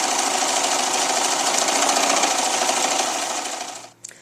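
A sewing machine runs at a fast, steady whir, zigzag stitching around the edge of a quilt piece. It is close and loud, then slows and stops near the end with a faint clack.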